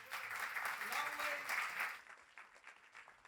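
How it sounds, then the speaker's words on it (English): An audience at a debate applauds with a soft, dense patter of clapping that fades after about two seconds, heard quietly from a distance. "Big round of applause."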